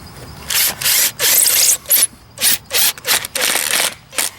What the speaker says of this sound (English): I'm going to take a 4-inch drywall screw, and we're going to run that straight on through